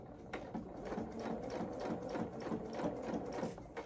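Sewing machine stitching a seam on small coveralls, a steady rapid mechanical whirr with rhythmic needle pulses, close and alone.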